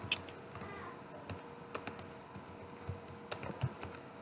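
Someone types on a computer keyboard while entering place names into a Microsoft Word table, producing quiet, irregular clusters of clicking keystrokes close to the microphone, with no talk.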